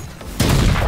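Gunfire in the game Valorant, coming from behind the player: a sudden loud burst of shots that starts partway through and stays dense to the end, after a quieter stretch of game ambience.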